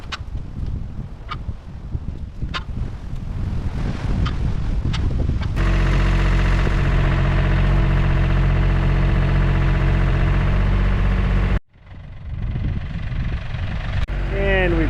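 A John Deere 870 compact tractor's engine runs loudly and steadily, used for storm cleanup outdoors, with wind noise buffeting the microphone, a brief dropout, and then a voice speaking.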